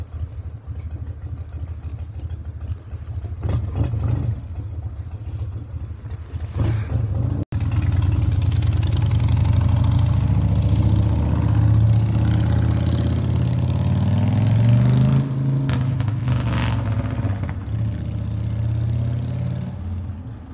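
A 2020 off-road dirt motorcycle of a design built since 1987 idles roughly, then revs up loud and close into a sustained high roar before settling back, alone without talk.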